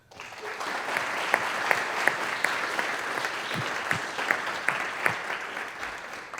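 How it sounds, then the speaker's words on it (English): An audience at a panel on the border humanitarian crisis breaks into sustained applause, dense clapping with a few sharper claps standing out, steady and fairly close, with no talk over it. "Let's give him a round of applause."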